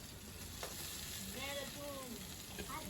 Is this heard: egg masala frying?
yes